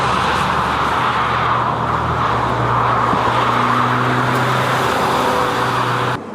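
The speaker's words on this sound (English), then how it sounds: "Mazdas are just so much fun to drive" A 2016 Mazda CX-3 AWD mini-ute drives along, a loud steady rumble of engine and road noise with a low hum that holds throughout and eases off at the very end.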